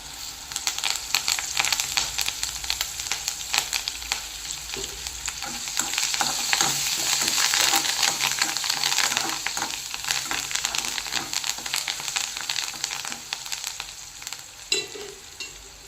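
Curry leaves hit a pan of eggplant already frying in oil, giving a dense, steady sizzle with a brief louder crackle burst, accompanied by occasional spatula scrapes and stirring knocks; no voices.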